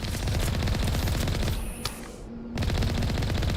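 Sustained automatic turret fire in Mass Effect 1, loud rapid bursts that break off briefly mid-way and then resume just as dense.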